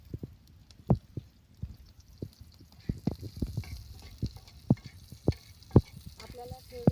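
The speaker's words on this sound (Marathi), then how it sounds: "तेल टाकून घेतलं आहे. आता त्यामध्ये कांदा टाकूया." Chopped onion dropped into hot oil over a wood-fired village stove crackles with irregular, distinct pops and spits over a soft frying hiss, close by and growing busier.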